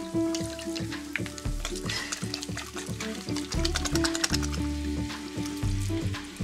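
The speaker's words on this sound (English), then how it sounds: "We're gonna add a ton of soy sauce" Soy sauce poured into a hot pan of pineapple fried rice, with a steady loud sizzle and crackle of frying running throughout, layered over a busy rhythmic musical background.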